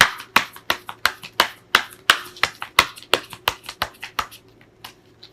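Tarot cards being shuffled and handled, a sharp series of rhythmic slaps and flicks, about twenty crisp hits spaced roughly a quarter second apart, close and clear, thinning out at the end.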